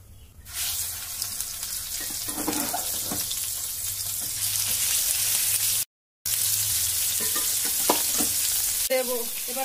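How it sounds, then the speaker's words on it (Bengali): Turmeric- and salt-rubbed fish fry in mustard oil in a continuous close sizzle with faint stirring clatter; the sound cuts out for a moment midway, then resumes just as strong. "তো মাছগুলো আমি সরিষার তেল দিয়েই ভাজা করে নেব।"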